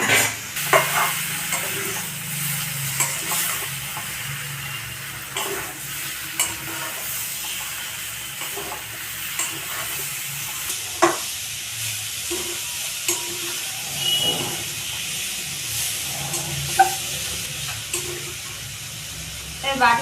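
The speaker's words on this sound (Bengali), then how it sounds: "এবার আমি আলু আর ফুলকপি দিয়ে মশলাটাকে এবার একটু ভালোভাবে একটু সুন্দর করে কষে নেব।" Potatoes and cauliflower fry with spices in a pan, giving a soft sizzle under repeated scraping and clinking stirs, with a voice speaking intermittently.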